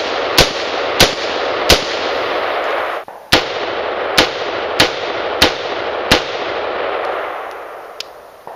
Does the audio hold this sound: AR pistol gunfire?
yes